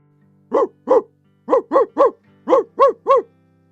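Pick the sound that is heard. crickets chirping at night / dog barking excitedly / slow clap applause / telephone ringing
dog barking excitedly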